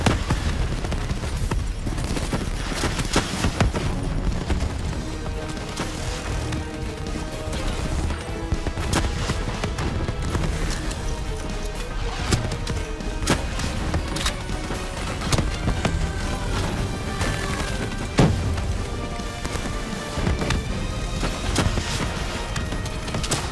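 Sustained gunfire in Call of Duty Black Ops III, with dense overlapping bursts, explosions and booming impacts running continuously through a loud in-game firefight during a boss fight against a shielded enemy.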